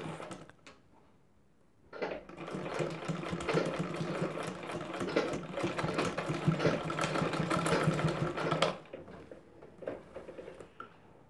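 A sewing machine stitching a zip into a boat-neck or high-neck blouse, running in one steady close burst of rhythmic whirring for several seconds before stopping.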